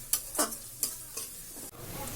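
Half-pounded garlic fries in hot oil while a spoon stirs it, with a quiet bed of sizzle and a few quick scrapes and clicks against the pan at close range. No one speaks.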